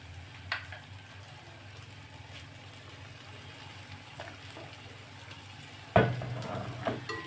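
Egg kothu idiyappam sizzles softly in a frying pan, with a low steady fry broken by a couple of sharp scraping clinks as the mixture is stirred, loudest near the end.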